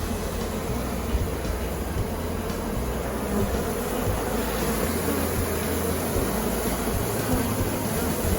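Dense, steady buzzing of many honeybees at a hive fills the air, close and continuous, with a low rumble underneath and no talking.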